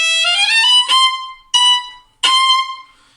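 Several violin notes played with a loose, careless bow, each one brushed and smeared rather than crisply attacked, with short gaps between them.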